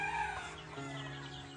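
Gamefowl chickens clucking and calling softly in a small range area, a steady low murmur of several birds with no single sound standing out.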